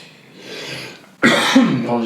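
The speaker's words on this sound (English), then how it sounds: "Apologies for the cough." A single harsh cough from a man partway through, loud and close, preceded by quieter background sound.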